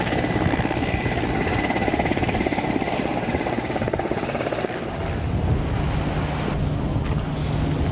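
An army helicopter in flight over the Caucasus, heard from inside the cabin as a loud, steady rotor and engine roar with wind buffeting, continuous throughout and no voices.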